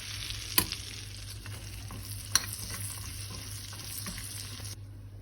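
Finely chopped roasted red peppers sauté in butter with a constant soft sizzle, two sharp utensil knocks and occasional stirring scrapes, and no one speaking.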